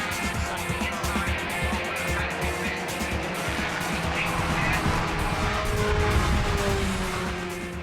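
Low-cost race cars built from old Ford parts, all running identical 1300cc engines, race past in a continuous, moderately loud engine drone that swells gradually.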